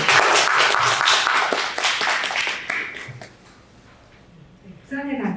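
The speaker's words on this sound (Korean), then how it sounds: "큰 박수로 맞이해 주시기 바랍니다." A crowd at a rooftop film festival claps to welcome film directors and actors. The applause is loud and scattered with individual claps, then it thins out and a voice begins to speak.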